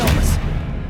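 Expelliarmus spell cast in Hogwarts Legacy, a single loud burst with a bright crackle that fades within a second into a low rumbling tail.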